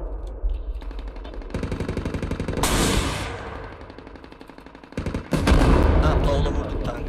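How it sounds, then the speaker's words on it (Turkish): Tank cannon fire erupts in the military shooter Squad, with heavy blasts that land over rapid gunfire and rumbling battlefield noise, giving a dense, loud and sustained barrage. "Top atacağız şimdi ona."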